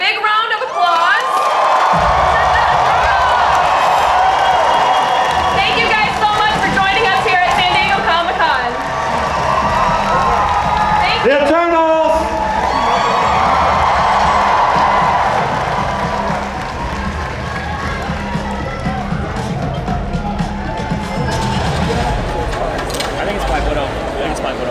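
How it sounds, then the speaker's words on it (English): Large Comic-Con panel audience at San Diego applauding and cheering, a loud sustained roar of clapping, whoops and shouts lasting the whole stretch, with brief voices mixed in. "Everybody, big round of applause."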